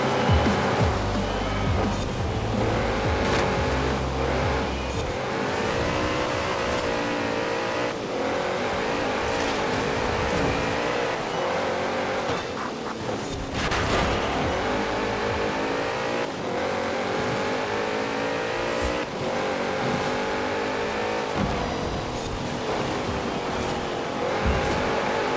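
Porsche 928 GTS racing against other 1990s cars in Forza Horizon 4, its engine loud and steady throughout with revving, shifts and passing cars, no talking.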